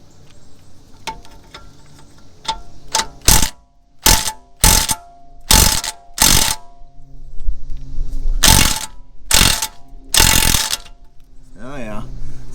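Ratchet wrench working a 21 mm bolt on a Tesla Model S lower control arm, sounding as repeated bursts of quick clicking with pauses between, close up, over faint background noise.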